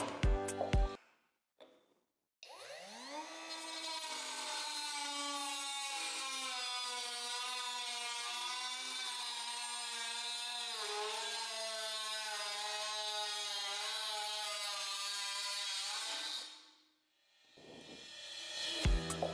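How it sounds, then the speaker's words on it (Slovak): A Parkside Performance PPWSA 12 compact angle grinder cuts through 3 mm steel sheet, a steady high whine with dense harmonics holding for about fourteen seconds before spinning down, with short clatters before and after. "brúska má taktiež dobrú silu a zvláda aj materiál o hrúbke 3 mm"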